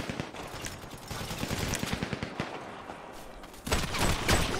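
Video game gunfire crackles in a rapid, uneven string of shots, moderately loud, with a heavier burst near the end and no talk over it.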